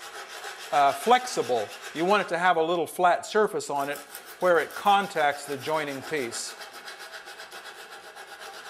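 A sanding stick rubs along the edge of a crown molding joint, a soft steady rasping that sits low beneath someone talking close by throughout.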